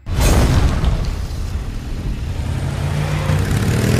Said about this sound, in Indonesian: Kemudian mobil yang mereka curi itu pun kembali mereka ledakan untuk menghilangkan jejak.